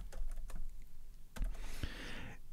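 Keys on a computer keyboard are pressed in a few scattered clicks, close and fairly quiet, with a short pause between small bursts while entering a spreadsheet formula. No one speaks.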